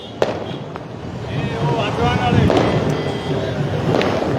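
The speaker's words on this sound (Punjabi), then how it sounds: "ਚਲੋ ਉਧਰ ਪਟਾਕੇ ਵੱਜ ਰਹੇ" Scattered firecracker bangs pop sharply over a busy outdoor crowd celebrating ward election results in Balachaur, Punjab, with voices and chatter continuing throughout.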